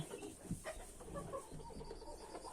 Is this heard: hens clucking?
yes